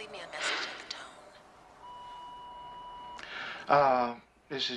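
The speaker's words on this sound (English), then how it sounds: "please leave me a message at the tone" An answering machine from a 1986 film sounds one long, steady electronic beep, with voices talking before and after the tone.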